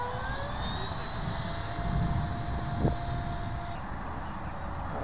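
A Sapac 64mm EDF T-45 Goshawk foam RC jet on 4S power flies overhead, its electric ducted fan giving a steady whine that rises and falls slightly in pitch as it passes at moderate distance, with no talking.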